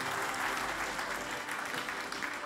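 Audience applauding steadily to welcome a speaker to the stage at a conference plenary session, a dense sustained clatter of many hands throughout.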